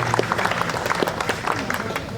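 An audience at a 2023 awards ceremony in Sédhiou, Senegal, claps in a short burst of applause, a dense patter of many hands with a faint murmur of voices underneath.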